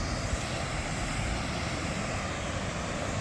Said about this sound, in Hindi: ये है वो झरना